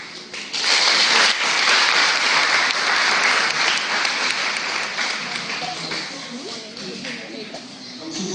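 An audience applauds a contestant at a leadership-competition semifinal, with loud, sustained, dense clapping that fills the room and thins slightly toward the end, while a voice talks faintly underneath.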